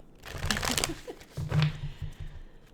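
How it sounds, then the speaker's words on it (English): Several decks of tarot-style cards are shuffled up close for a pick-a-card reading, in two quick bursts of riffling and sliding, with a short gap between them. "This is going to be the fastest shuffle section ever"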